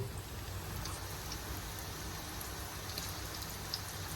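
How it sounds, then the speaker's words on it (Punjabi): Heavy rain pours down in a dense, steady hiss with a low rumble beneath, constant and loud throughout, with no voices. "ਪਰ ਮੀਂਹ ਬਹੁਤ ਤੇਜ਼ ਪੈਂਦਾ"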